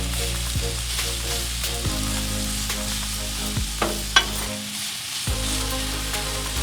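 Creamy Cajun chicken pasta frying on a Blackstone griddle, a close, continuous sizzle with occasional scraping and stirring knocks as the food is tossed, with no talking over it.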